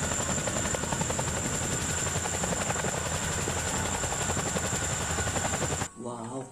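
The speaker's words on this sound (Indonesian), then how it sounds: "Satu ini ada helikopter Chinook militer." A Chinook military helicopter thumps loudly with rapid, rhythmic tandem-rotor chopping and a high whine, then cuts off abruptly near the end.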